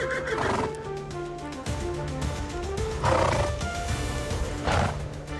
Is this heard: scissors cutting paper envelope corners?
no